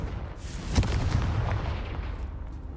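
A Confringo fire spell fired in the video game Hogwarts Legacy, a single loud booming blast with a rushing burst and rumbling tail that slowly fades.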